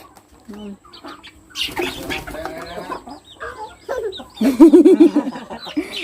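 A chicken clucks nearby in a run of short repeated calls near the end, mixed with rustling, wing flaps and people talking in the background.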